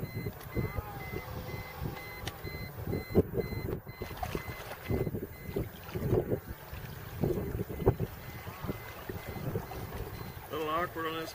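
A small motor drives a Classic Accessories Colorado XT inflatable pontoon boat on open water, a low steady drone beneath heavy wind buffeting on the microphone and occasional knocks throughout.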